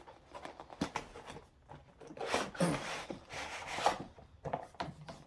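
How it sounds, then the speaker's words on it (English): Tape on a toy figure's cardboard box being cut open, heard as close scraping and rubbing with several rustly bursts of slicing and soft taps, with no talking. "Just a piece of tape you got to cut right here to get it open."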